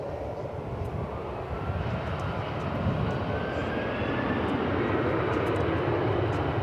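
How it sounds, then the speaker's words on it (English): A Boeing 767 airliner with winglets passes at DFW Airport, its engine roar steady and loud throughout, building slightly as it goes by with no talk over it. "And here goes that 767."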